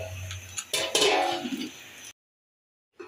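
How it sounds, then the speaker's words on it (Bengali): A lid set onto a cooking pot on a home kitchen stove, giving a few close metallic clatters and clinks that stop abruptly, followed by silence and one faint knock at the end. "এবার আমি ঢাকনা দিয়ে ঢেকে দিচ্ছি"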